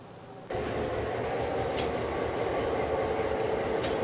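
A train at the Cobh quayside station, a steady broad rumble starting abruptly after half a second and holding loud and continuous, with two brief high metallic squeals or dings partway through.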